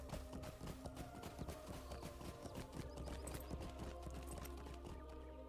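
Horse hooves clip-clop in a steady, quick rhythm against a low droning background, quiet and continuous throughout.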